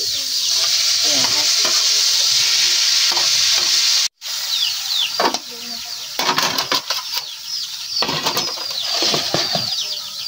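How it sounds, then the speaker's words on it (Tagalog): Pancit canton sizzles loudly in a pan while it is stirred and tossed, with close, busy frying crackle and scraping. One brief silent break interrupts it before the sizzling resumes. "Halu-haluin ko lang muna siya."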